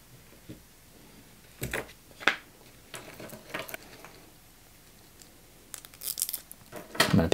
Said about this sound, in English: I'm going to peel off the plastic.